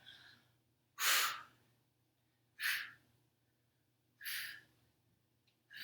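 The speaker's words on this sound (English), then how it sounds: "breathe out as you push up" Three forceful, breathy exhalations during push-up reps, spaced evenly about one and a half seconds apart, close and clear over a faint low hum, with no talking.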